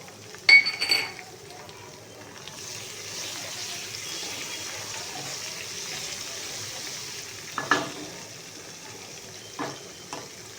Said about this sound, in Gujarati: ત્યારબાદ આપણે આમાં થોડી હિંગ એડ કરીશું અને લીલા સમારેલા મરચાં એડ કરીશું.